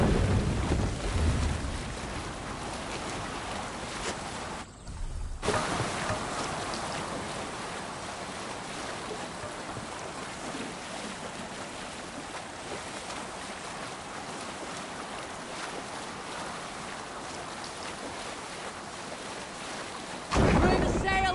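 A Viking longship sails over rough waves in Assassin's Creed Valhalla, with steady broadband wind and water rush filling the scene, a brief dip near the middle and a louder gust at the end.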